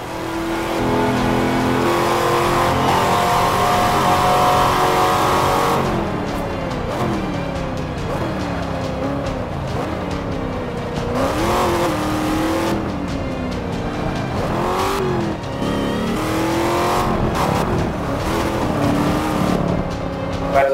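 A Chevrolet Camaro race car engine in Forza Motorsport 5 revs loudly and continuously, its pitch climbing and dropping as it accelerates and shifts, with occasional tire squeal.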